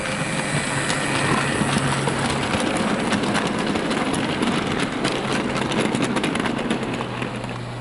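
A model GER Class N7 locomotive hauls eight wagons and a brake van along a layout, a steady close rumbling whir with light rhythmic clicking of wheels over track joints running throughout.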